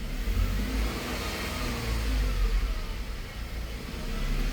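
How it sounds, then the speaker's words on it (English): A car engine revved with a little gas to raise oil pressure, a steady mid-pitched engine rising and holding under throttle, fairly faint and continuous throughout. "We're gonna give it a little bit of gas to bring up the oil pressure real quick."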